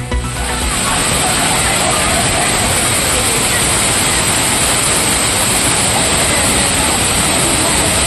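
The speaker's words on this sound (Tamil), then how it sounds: "கோடையிலும் நீர் கொட்டும் கன்னியாகுமரி மாவட்டம் திருப்பரப்பு அருவி" The Thirparappu waterfall in Kanniyakumari district pours with a loud, continuous broadband roar, steady and close, holding at full strength from start to finish.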